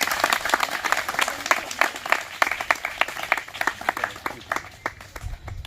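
A crowd at a Home Guard physical recruitment event in Nalanda claps loudly and briskly, a dense run of sharp hand claps from a group close by, with a few voices mixed in near the end.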